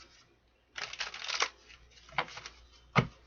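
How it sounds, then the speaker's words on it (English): A tarot deck is shuffled in several bursts of riffling and flicking cards, close and moderately loud, with short pauses between them and a sharp snap at the end. "Two more shuffles."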